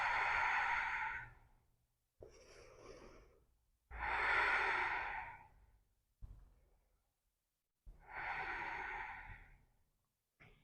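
Slow, deep breathing while holding a yoga pose: long airy inhales and exhales alternating at an unhurried pace, close and soft in a quiet space.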